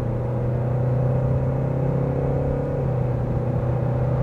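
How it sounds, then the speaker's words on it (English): Steady engine drone inside a 2021 Kia Sedona minivan driving at night under full throttle, a low even hum and road rumble heard from the cabin with no voices. "let's just put the car into normal mode and just let you hear the engine one more time"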